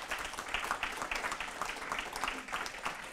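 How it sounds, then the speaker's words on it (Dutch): A seated audience at a talk about home cleaning gives a soft, even round of applause, the clapping faint and somewhat distant throughout with no voices over it. "Mag ik een applaus voor Niels Jansen?"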